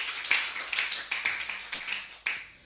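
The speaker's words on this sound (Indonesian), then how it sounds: "Tepuk tangan bagi Bapa Yahweh." A church congregation applauds for Yahweh during an Indonesian worship service, a dense, steady patter of many hands clapping with a few sharper accents, fairly quiet and distant in the room, with no one speaking.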